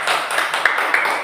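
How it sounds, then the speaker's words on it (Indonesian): Classroom applause as students clap for a classmate before a food-chain presentation, a brisk burst of many hands with a few sharper claps standing out, fairly close and unbroken. "tepuk tangan dulu untuk teman kita"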